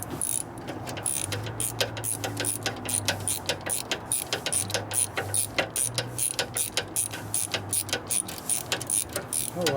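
A cutting tool bites into metal on the rear brake of a 1952 Harley panhead, a steady rapid ratcheting chatter of regular clicks with a low mechanical drone underneath, close and continuous, with a voice speaking briefly over it.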